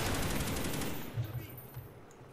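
Bursts of rapid automatic gunfire from the Black Ops video game, played at low volume as a dense continuous rattle that tapers off, heard without speech.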